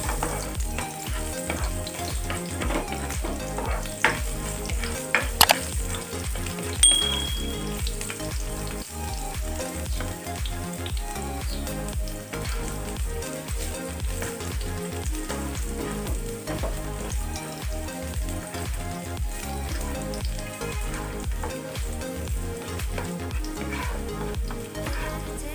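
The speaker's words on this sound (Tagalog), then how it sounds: "Gigisa na tayo ng bawang." Garlic sautéing in hot oil for chicken con ampalaya, a steady close frying sizzle running throughout with occasional stirring clinks and scrapes, no talking.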